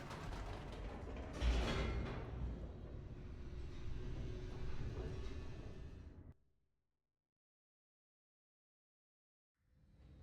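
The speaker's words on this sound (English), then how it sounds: "The elevator raced downward, plummeting towards an unknown fate." An elevator plummets downward in the video game The Stanley Parable, a dense, loud mechanical rumble and creaking roar that cuts off abruptly into silence, then briefly returns at the end.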